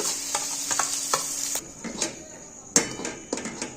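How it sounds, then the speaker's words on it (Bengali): Soaked chana dal mixture is stirred into hot oil in a wok, giving a steady sizzle under scattered scraping and clinking spoon strikes, with a sharp knock near the end. "এর মধ্যে এই যে ভিজিয়ে রাখা যে ছোলার ডালটা সবকিছু মেশানো, সেটা এর মধ্যে ছেড়ে একটু নেড়ে নেব।"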